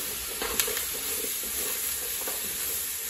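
Chile perón peppers sizzle softly in a pan while being stirred, a steady low frying hiss broken by a few light scraping clicks of the utensil, fairly quiet and close, with no voices.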